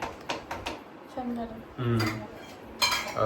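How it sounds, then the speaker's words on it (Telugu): Metal spoon scraping and clinking against a pot while tamarind rice is mixed by hand, a series of irregular close clatters and scrapes, with people talking in between. "ఇప్పుడైతే ఇంకా పులిహార కలుపుతుంది ఉమా"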